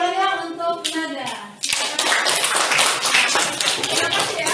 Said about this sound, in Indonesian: Tepuk tangan ya untuk Nada.